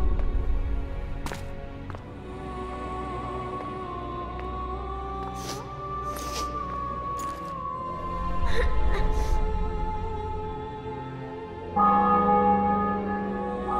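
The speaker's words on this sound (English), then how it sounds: "Bells" Church bells ringing in The Witcher 2 after a city and fortress are taken, several sustained metallic tones over a low rumble, with brief clangs and shouts scattered through and a fresh loud peal near the end.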